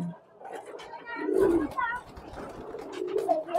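A young crossbred pigeon, a fantail and local pigeon cross kept in a shared loft, gives soft, low coos nearby, while people talk over the sound.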